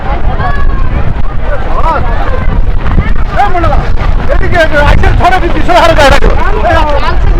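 Strong wind blows hard at a beach in New Digha, a steady loud roar buffeting the microphone throughout, with people talking over it.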